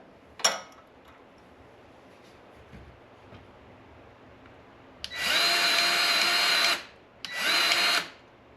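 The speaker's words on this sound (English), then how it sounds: "I've got a Milwaukee grease gun here" A Milwaukee cordless grease gun runs in two close bursts, a steady loud whir of about a second and a half followed by a shorter one, pumping grease into a zerk fitting on a mini-excavator after a faint clunk earlier.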